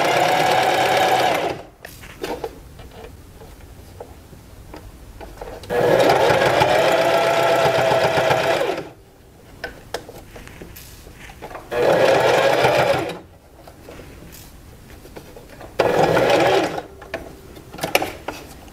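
A sewing machine stitches a small pet skirt in four separate bursts of rapid mechanical whirring, each a few seconds long, with quiet pauses and faint handling clicks between runs.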